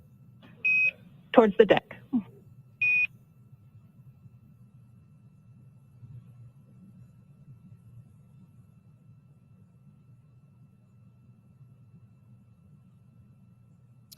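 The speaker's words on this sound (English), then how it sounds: "what we heard was those beeps are Quindar tones" A few short electronic Quindar tone beeps on a space mission radio loop, two close together then one more, followed by a brief burst of speech and a long stretch of low hum.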